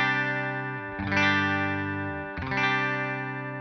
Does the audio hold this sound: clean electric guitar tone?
yes